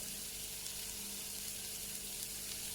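Chopped onions with salt sauté in a pan, giving a dense continuous sizzle and crackle that stays even and close throughout without any distinct stirring strokes or talking.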